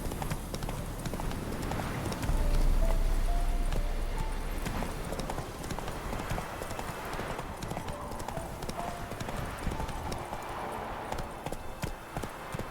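A horse gallops at a steady clip-clop pace in the video game The Witcher 3, hoofbeats running continuously and fairly loud over a busy in-game ambience.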